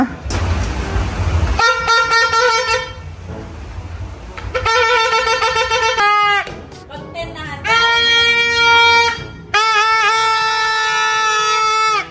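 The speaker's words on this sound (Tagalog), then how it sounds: "Si Bal po ay may torotot na din at saka po si Kim" Loud, buzzy party horns blown in several long blasts with short gaps at a New Year celebration, overlapping tones, and a noisy, lively background at the start.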